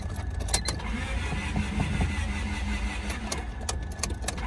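A car at a dealer-only auto auction, hood up, as someone tries to start it and the engine will not crank: a low rumble broken by repeated sharp clicks and brief bursts, with no voices.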